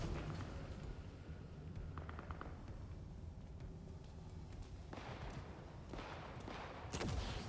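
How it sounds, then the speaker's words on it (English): Gunfire in a city at night during a horror game, heard as distant, muffled booms and cracks over a low rumbling background, with a few sharper bursts toward the end. "Endless gunfire."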